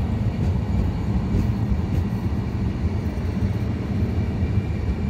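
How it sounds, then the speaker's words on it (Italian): A train rumbles steadily through Firenze Rifredi station in Italy on track 2. The roar is loud, deep and continuous for the whole stretch, with no announcement voice. "Attenzione! Treno in transito al binario 2."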